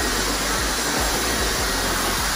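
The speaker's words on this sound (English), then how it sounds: "He taught me to get the blow dryer without the diffuser afterwards." A blow dryer used without a diffuser on curly natural hair gives a steady, loud, breathy whoosh and hum that stays unbroken throughout.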